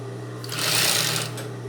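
A sewing machine runs a short burst of stitches along a zipper, its whirring motor rising and fading over under two seconds, close and steady with no talk.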